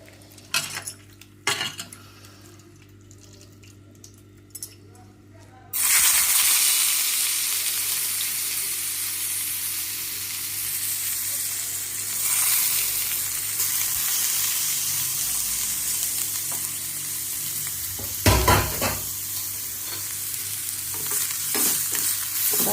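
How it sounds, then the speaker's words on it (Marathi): Bitter gourd (karela) pieces frying in oil in a pan, with a steady loud sizzle setting in after a few spoon clinks and continuing under occasional stirring and scraping of a utensil. "आणि कारली परतून घ्यायची, म्हणजे कुरकुरीत होतात."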